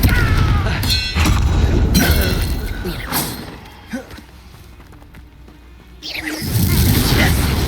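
Confringo blasting spell in the Hogwarts Legacy video game, a loud explosive whoosh and boom burst amid dense game combat noise, with a quieter stretch in the middle before the roar swells again.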